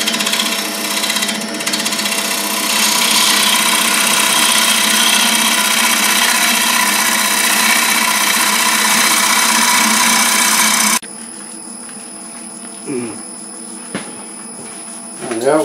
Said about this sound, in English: I've sanded through the grits. I'm now on 400 grit.